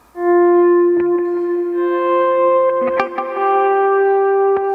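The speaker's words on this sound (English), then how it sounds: "I'm using a swell." An electric guitar volume swell through effects, notes fading in smoothly and sustaining with echo, chorus and reverb, a few picked accents layered on top, played loud and alone.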